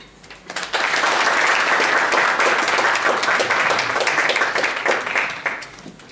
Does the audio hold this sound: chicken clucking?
no